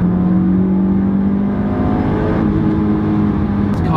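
A sports car engine is held at high revs, around 7,000 RPM, giving a loud, steady, close-up drone that climbs slightly with no voices over it.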